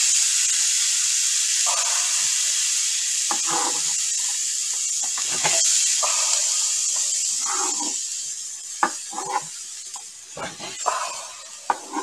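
Steady, loud sizzling hiss of food frying in a hot pan, with occasional clinks and scraping of utensils toward the end.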